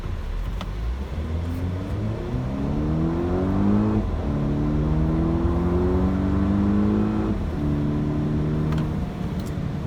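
A 2018 Volvo XC60 T6 R-Design accelerates hard from 1000 RPM in dynamic mode, its engine note climbing steadily through the gears with brief dips at each shift, loud and continuous from inside the car.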